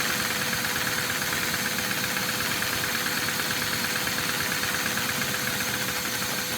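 A Lego inline two-cylinder OHV vacuum engine runs continuously, a steady dense mechanical chatter with a constant faint whine, even and unbroken from start to finish.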